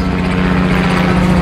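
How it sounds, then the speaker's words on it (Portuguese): An airplane passes overhead above a huge park, a loud steady droning engine roar filling the whole clip with no voices. "Tem um avião atrapalhando."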